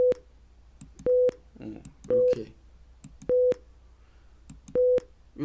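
Repeated steady electronic tone from a computer sound card, sounding in five short even bursts about a second apart, with faint talk and clicks in the gaps between.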